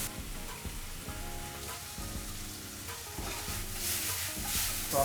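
Balsamic vinegar hits a hot pan coated with caramelized residue, giving a steady broadband sizzle that swells louder toward the end, close up and alone, with no voices.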